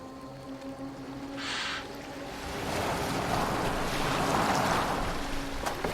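A boat moves across the sea in Assassin's Creed Valhalla, with a broad rush of water and waves swelling louder, soft wind, and a low ambient hum underneath.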